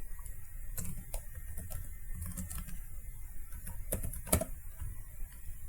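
A password typed on a computer keyboard, with close, irregular clusters of key taps and clicks over a low steady room hum, no talking.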